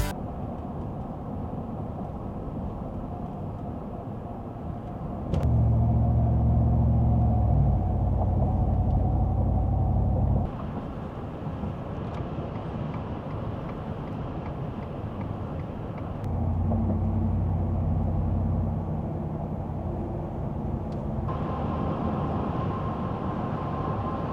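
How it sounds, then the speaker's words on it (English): Steady low road rumble and tire hum of Nitto Ridge Grappler tires from inside a moving 14th generation Ford F-150 pickup, with deeper droning stretches rising and falling over a long continuous drive. "what some Nitto Ridge Grappler tires sound like on a 14th generation F-150"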